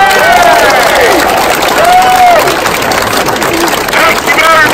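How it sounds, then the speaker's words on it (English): Outdoor crowd at a running race applauding and cheering for the volunteers, loud continuous clapping and babble with voices calling out over it. "Can we have a massive round of applause for all our volunteers today?"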